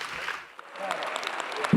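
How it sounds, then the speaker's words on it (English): Audience at a policy panel event applauding the expert panelists, a soft, diffuse patter of many hands with a slight swell near the end, moderately distant and brief. "Please give these experts a round of applause."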